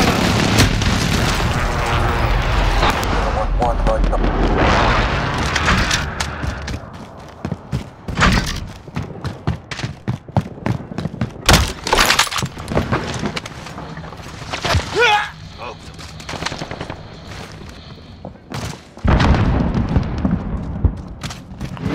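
Precision airstrike explosions in Call of Duty Modern Warfare during a team deathmatch, a rapid series of loud booms and thuds with crackling bursts repeating across the span, with brief in-game radio voices in between.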